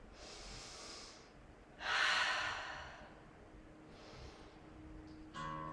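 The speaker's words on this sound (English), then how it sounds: "Breathing in and exhale, in and exhale." Deep yoga breaths, close and quiet: a soft inhale, then a long, louder exhale, another gentle breath, and a final breathy rush.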